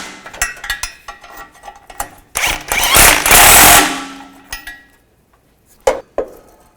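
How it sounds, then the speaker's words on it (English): Tools tightening the exhaust nuts and studs on a 2005-2010 Chevrolet Cobalt during a catalytic converter pipe replacement, giving a series of close metallic clinks and rattles with a louder sustained burst of ratcheting in the middle, then a few scattered clicks. "Now tighten up the nuts and studs up front."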